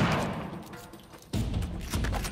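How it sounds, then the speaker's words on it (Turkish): Explosions and gunfire from the video game Uncharted 4: A Thief's End erupt in heavy, rumbling bursts, with two sharp, loud booms hitting in quick succession over a continuous crackle of firing. "Hey, patlamaları buradan duyuyorum."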